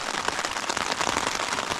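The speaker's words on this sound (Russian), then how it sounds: "Только что дождик шел-шел и вроде прекратился пока." Steady, dense patter of rain drumming on a taut tent's fabric at a mountain camp in Altai, continuous and close, with no voices.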